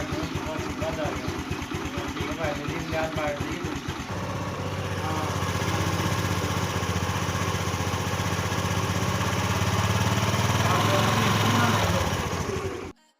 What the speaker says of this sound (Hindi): इंजन साउंड की बात करूं तो उसका साउंड मैं सुना देता हूं।